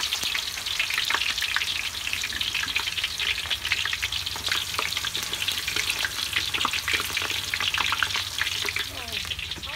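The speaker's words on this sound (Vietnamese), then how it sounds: "Dầu nó nấu rồi, để vô chiên." Banana slices frying in hot oil, a steady dense sizzle and crackle running throughout at close range, with faint stirring and no clear talk.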